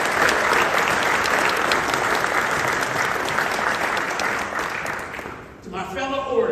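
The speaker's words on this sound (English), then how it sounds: "Give him a round of applause." Sustained applause from a graduation audience fills the room, loud and dense, then fades briefly before a voice starts up near the end.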